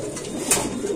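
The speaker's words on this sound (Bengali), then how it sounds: "কবুতর" Exhibition pigeons for sale cooing, a short close burst of low throaty coos.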